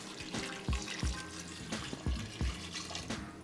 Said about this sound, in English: I'm going to pour the water in here.